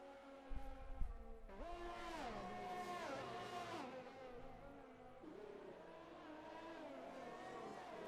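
Race cars in an SNRC Division 2 sim racing round at Mexico give off a faint, thin engine whine that revs up and down through gear changes, with several cars close together.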